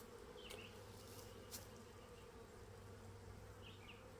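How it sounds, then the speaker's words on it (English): A honey bee swarm hums steadily inside an insulated horizontal Layens hive box, a continuous close buzz with a few faint clicks. "There's probably couple hundred bees in the box"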